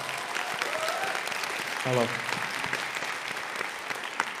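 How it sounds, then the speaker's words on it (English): An audience at a live venue event applauds in a steady, sustained wash of clapping throughout, with a voice briefly speaking over it. "Give him a round of applause."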